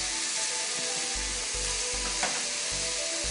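Oil fries hard in a pan with salt added while making egg samosa filling, a loud dense sizzle close up that runs steadily throughout with faint low scraping thumps underneath.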